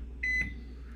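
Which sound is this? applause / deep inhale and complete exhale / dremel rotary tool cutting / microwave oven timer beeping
microwave oven timer beeping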